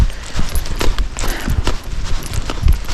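A gaited horse walks toward home, its hooves giving a steady near clip-clop with low thuds over an outdoor background.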